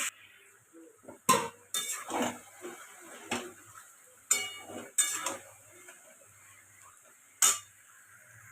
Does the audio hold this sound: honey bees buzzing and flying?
no